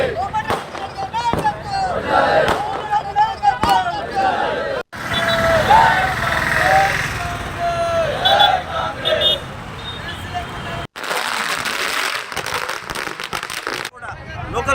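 Large numbers of fireworks go off at a rally at the Clock Tower centre in Nalgonda district. Repeated crackling bursts and pops sound loud and close amid crowd hubbub and passing traffic.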